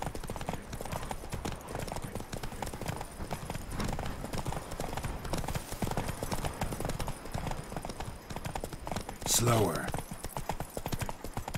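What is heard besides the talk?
horse Roach galloping, from the video game The Witcher 3: Blood and Wine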